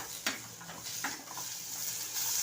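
Cashews, green chili, ginger and garlic sautéing in a pan for a bottle gourd kofta curry, a soft steady sizzle with a few light scrapes and taps of the stirring spoon, quiet and close.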